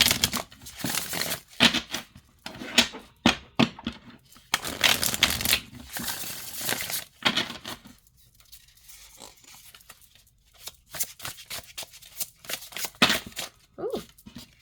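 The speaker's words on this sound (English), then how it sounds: "Overhand shuffles really nice too." Tarot cards are shuffled overhand in repeated quick bursts of riffling and slapping, close and crisp, with pauses between rounds and a brief quiet stretch in the middle.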